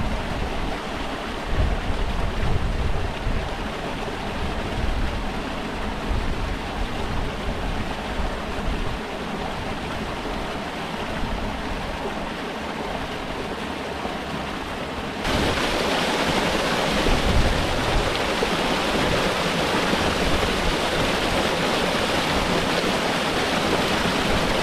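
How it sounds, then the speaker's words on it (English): A small waterfall cascade on Kinder Scout splashes in a steady rushing roar, close and continuous, with a slight brightening in the sound partway through and no one talking. "get the water from that little cascade there"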